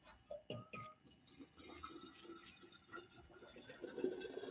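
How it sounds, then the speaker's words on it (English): Hot water from a tap running into a container for bottling kombucha, a quiet, uneven splashing stream with faint drips and a rising fill near the end, heard close with no speech. "Hot water."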